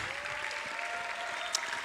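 An audience claps steadily for about two seconds at a church lecture, a dense, even patter of many hands with no voices rising above it.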